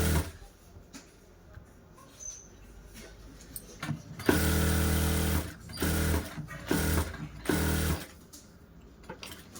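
Sewing machine stitching a lining blouse, starting after quiet handling noises and running in several short bursts with brief pauses, close by.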